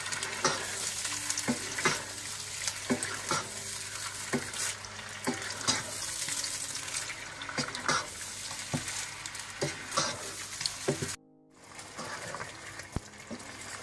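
Chicken coated with ginger-garlic paste is stirred in a pot for degi chicken biryani: repeated scraping spoon strokes over a steady sizzle, close and continuous, with a brief pause near the end.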